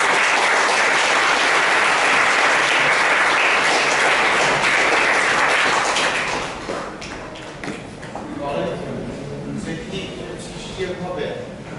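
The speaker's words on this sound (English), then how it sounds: "applaud him for that because it was great" An audience applauds after a presentation, loud dense clapping for about six seconds that then thins into scattered claps and shuffling while a voice talks.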